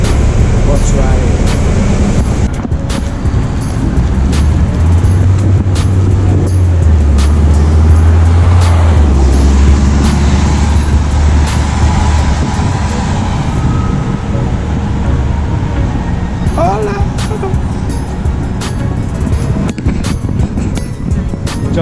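Steady rumble of a city bus ride on a rainy day, continuous engine and road noise throughout with a few brief rattles and clunks inside the vehicle.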